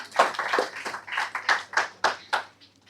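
Light clapping at a talk on entrepreneurship and social change, about a dozen distinct claps in an uneven rhythm, close and fairly sparse, fading at the end.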